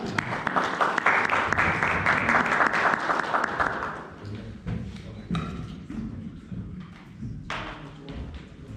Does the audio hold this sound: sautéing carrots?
no